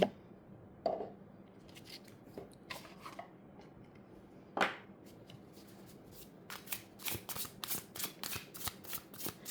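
Tarot cards are shuffled close by, with scattered soft flicks building into a quick run of riffling card snaps near the end.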